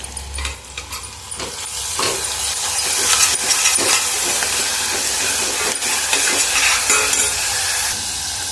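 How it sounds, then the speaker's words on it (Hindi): Green chili and garlic paste frying in a pan, a close, steady sizzle with hissing and stirring scrapes throughout, no talking. "अच्छी तरीके से मिर्ची वाला कच्चा स्मेल जाने तक मैं फ्राई कर ली।"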